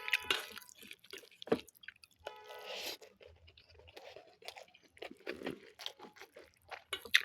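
Boiled potato seasoned with salt and a little turmeric being eaten up close, with soft wet chewing and crunchy bites in irregular bursts, some sharper bites standing out, and no talking.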